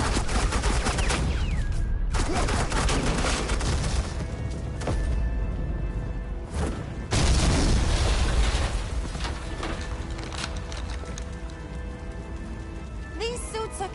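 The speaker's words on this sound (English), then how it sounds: "Suppressing fire." Sustained suppressing gunfire in the Batman: The Enemy Within game, a dense, continuous rattle of shots with brief breaks, loud and close, with a voice speaking over part of it.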